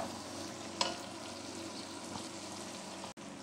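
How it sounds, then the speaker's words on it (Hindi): Tomatoes frying with ginger and garlic for Lahori cholay: a soft, steady sizzle with a sharp utensil tap early on and faint stirring, briefly dropping out near the end. "अदरक लहसुन के साथ ही अब इसमें टमाटर डाल देंगे। टमाटर को सॉफ्ट होने तक पका लेंगे।"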